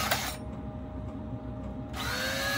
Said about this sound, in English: I'll do the bottom hole first. Because that drill bit's still in there.